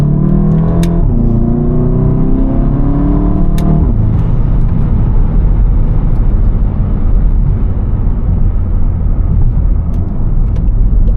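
Tuned VW Golf 7.5 GTI accelerating in sport mode with manual shifting on a night drive, engine note rising loudly at first, then giving way to a heavy, continuous roar of road and engine noise.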